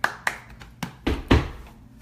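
A team handshake of hands clapping and tapping: a quick run of about six sharp slaps and taps in an uneven rhythm, close and fairly quiet.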